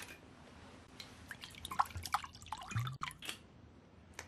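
Alcohol poured into a glass, quiet trickling and dripping with a few soft clinks, close and faint against low room noise over several seconds.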